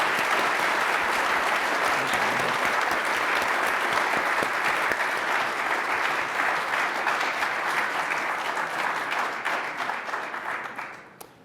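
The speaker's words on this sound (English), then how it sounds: "please give them a round of applause" Sustained audience applause after a panel on the origins of QuickTime, a dense wash of many hands clapping at steady volume for about ten seconds before tapering off at the end.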